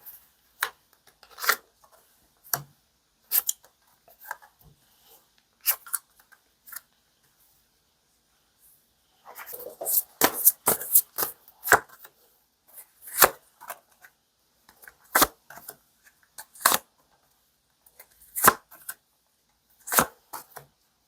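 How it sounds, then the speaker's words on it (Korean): Tarot cards handled on a table for a reading: sharp snapping clicks and soft flicks come in scattered bursts, pausing briefly, then growing denser in a quick run of close, crisp slaps without talk. "4번님 카드 먼저 뽑을게요"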